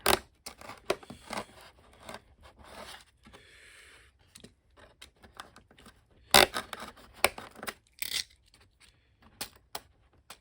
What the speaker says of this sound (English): And cut this slot out a little farther.